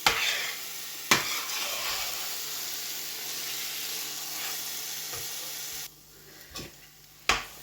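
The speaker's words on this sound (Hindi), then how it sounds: "आँच जो है मीडियम ही रखेंगे और मीडियम आंच पे इनको भूनेंगे।" Grated carrots fry in desi ghee over medium heat for carrot halwa, with a steady loud sizzle and hiss. A spoon scrapes through them in several separate strokes, and the frying quietens near the end.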